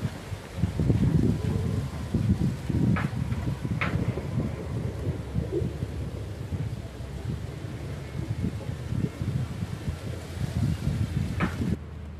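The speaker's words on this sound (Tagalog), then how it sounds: "Malakas ang hangin dito" Strong wind gusts roar across open countryside fields, buffeting the microphone in a steady, loud low rumble with a few faint higher clicks, and nobody speaks.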